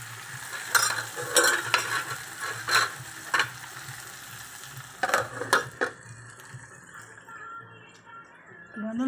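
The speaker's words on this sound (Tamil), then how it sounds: "அப்போ தான் வெண்டைக்காய் வெங்காயம் இந்த கல்லில் வதங்கிறதுக்கு கரெக்டாக இருக்கும்." Okra and onion sautéing in oil on a stone pan, a crackling sizzle punctuated by a series of sharp scraping stirs, close up, then tapering off toward the end.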